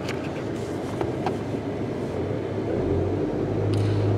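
A 2008 Toyota Yaris with a lean fuel-trim fault (P0171) is revved, its engine drone rising steadily and loudening toward the end, heard up close with no talking.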